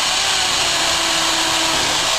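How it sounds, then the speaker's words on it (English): A steady, loud mechanical whir of a power drill running continuously through wood without a break, close up. "I'm just drilling."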